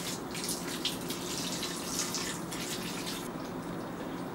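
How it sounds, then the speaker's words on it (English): Water is poured into a roasting pan of meat and vegetables, a faint continuous splashing trickle with a few brief stronger spurts. "Then I'm going to pour some water into it."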